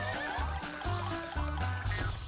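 A horse whinnies on a cartoon ranch, a faint high neigh heard over soft background music with no talking.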